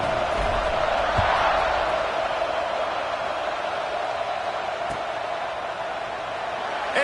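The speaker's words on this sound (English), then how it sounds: "this crowd is buzzing after that last score" A college football stadium crowd at Oregon versus USC buzzes after a touchdown, a broad, steady roar of many voices that swells slightly early on and holds at a constant, distant level.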